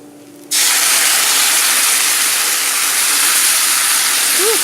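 Loud, steady steam hiss bursts in as canned pork and beans hit a hot pan of softened, lightly browned onions, filling the rest of the moment close and unbroken.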